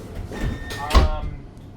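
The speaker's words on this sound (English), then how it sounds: "Doors closing. Please stand clear." Sliding doors of a Canberra light rail tram closing, a short whoosh ending in a soft thud, heard close up inside the carriage over faint background hum.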